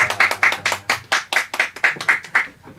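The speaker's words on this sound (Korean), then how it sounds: "우리 하나님께 영광의 박수 올려드립니다" Small church congregation clapping in a rhythmic, fairly steady beat of about a dozen distinct claps, close and clear over a faint low hum, fading at the end.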